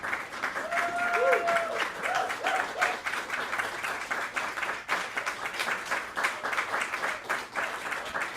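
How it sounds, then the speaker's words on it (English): Sustained audience applause after a concert by a singer with a string quartet, a thick, steady roar of many hands clapping, loud and continuous, with brief voices and a whoop near the start. "you guys got to keep on clapping"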